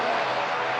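An airplane on final approach, about two miles out, gives a steady loud broadband engine roar with no distinct breaks over a brief moment.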